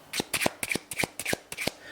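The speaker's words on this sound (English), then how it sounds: "we give them a quick shuffle like this" A deck of playing cards is shuffled in quick bursts, about eight crisp riffling flutters in a steady rhythm, close and clear with no talking.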